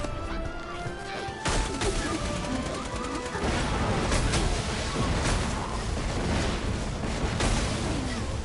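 Continuous heavy blasts and crashes from grenades in a shooter video game, dense and loud throughout with a sharp burst near the start, layered over constant game noise.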